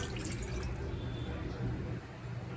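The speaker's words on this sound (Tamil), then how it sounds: "இந்த half டம்ளர் தண்ணியை வந்து இதுல ஊற்றணும்." A steady rushing splash as half a tumbler of water pours continuously into a pan for making Mysore pak, then eases slightly near the end.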